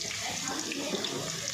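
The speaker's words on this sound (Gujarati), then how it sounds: "પાણી અંદર વહી આય અંદર વહી આવો" A kitchen tap runs steadily in a home while vadi curry is being cooked, giving a continuous hissing splash of water that stays even and fairly quiet throughout.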